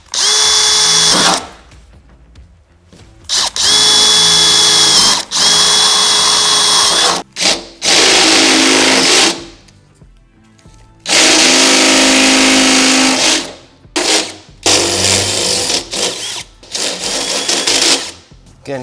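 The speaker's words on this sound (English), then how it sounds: "Again, with the drill stop, I'm gonna drill my holes." A power drill bores holes into the body of a Ford Transit cargo van for lock installation, loud whining bursts of several seconds each separated by pauses, close up, with a few brief quieter gaps between runs.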